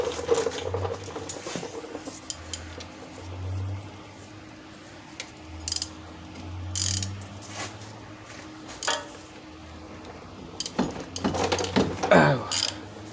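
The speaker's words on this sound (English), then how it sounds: "I'm going to end up using a 3/8 ratchet and then my 3/8 Milwaukee to cement them all the way out." A 3/8 hand ratchet and a 3/8 Milwaukee tool work 15 mm caliper bolts on a 2007 Pontiac Grand Prix, giving scattered clicks and brief mechanical bursts with low hum between, fairly close, with a few murmured words.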